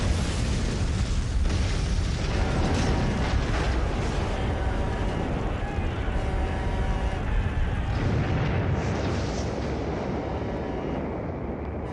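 Massive, sustained roaring blast from the Deepwater Horizon offshore oil rig explosion at the Macondo well, a loud continuous rumble and crackle lasting throughout with no voices.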